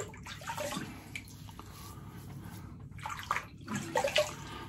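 Water splashes and trickles in a bathroom sink as a face is wetted before a shave, soft close splashing coming in a few short bursts with nobody speaking.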